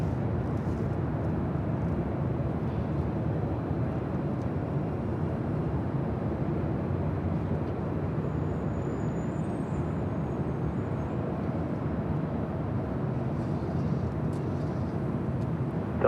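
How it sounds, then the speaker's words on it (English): A Delta Airlines Boeing 767-300ER heavy jet takes off from LAX, heard as a continuous broad, distant engine roar that holds steady throughout with no voices. "This is Delta Airlines 465 taking off to Honolulu on a"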